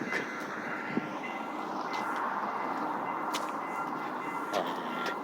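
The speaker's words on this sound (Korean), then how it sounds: "이제 기차가 도착하는 시간이네요" A train arrives at Nokdong station on a snowy day, a steady broad rumble of rail cars rolling in at a moderate distance, with occasional faint squeals and clanks over the continuous noise.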